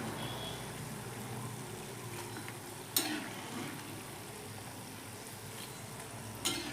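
Shankarpali dough pieces deep-frying in hot oil give a steady, soft bubbling sizzle throughout, broken by a couple of brief sharp clinks near the start and end, with no voices.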